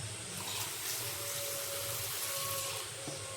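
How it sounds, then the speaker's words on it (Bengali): Water runs steadily into a pot or pressure cooker in a home kitchen, a constant close hiss and gurgle with no pause. "জল দিয়ে রাখি।"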